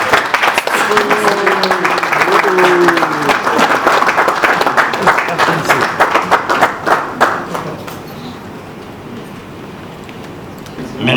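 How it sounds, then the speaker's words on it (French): Audience applause at a formal round-table event in the DRC, a dense wash of many hands clapping for about seven seconds with a voice faintly heard beneath it, then thinning to scattered claps and quiet. "Vos applaudissements, s'il vous plaît."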